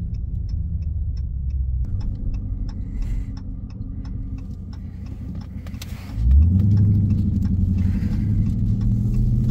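A Dodge Charger Scat Pack with the 392 engine cruises with a low rumbling drone and light ticking, then the engine swells into a louder, deeper acceleration partway through.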